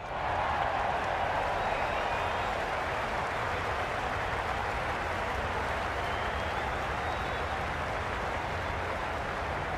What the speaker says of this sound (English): The crowd are really getting quite raucous. It's going to be difficult to focus down in the middle with this amount of noise.